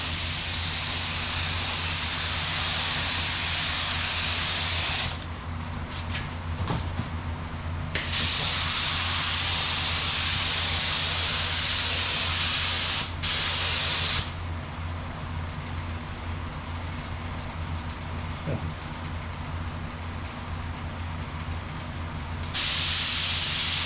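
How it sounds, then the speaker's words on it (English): A spray gun sprays epoxy onto a Dodge Ram mega cab's body, hissing in long continuous bursts, stopping and restarting several times over a low steady background hum. "So I'm gonna go mix up some epoxy and start spraying this thing."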